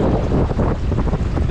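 A dinghy's engine runs at full power while cruising on the River Dee, giving a loud, continuous roar mixed with wind and water rush close to the microphone.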